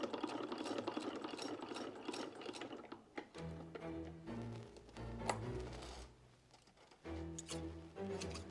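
Sewing machine with a suspected loose screw underneath runs with a rattling, ratcheting mechanical clatter, steady and close though fairly quiet, its pitch shifting as the motor speed changes.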